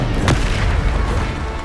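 A Bombarda explosion spell in Hogwarts Legacy goes off as a loud, close boom with a sharp burst at the start, then a deep rumbling roar that sustains to the end.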